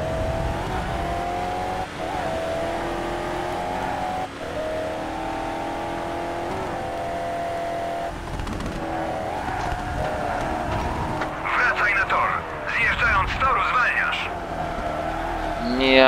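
A race car engine in Toca Race Driver 3 drones and revs continuously with shifting pitch as it changes gears, and tire squeals and skids come near the end.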